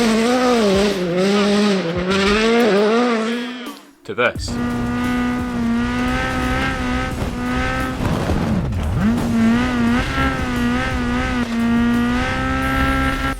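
WRC rally car engines, real cars compared with the WRC Generations video game: a loud, sustained engine note with rising and falling revs and gear changes, a brief drop near the middle, and a few words spoken over it.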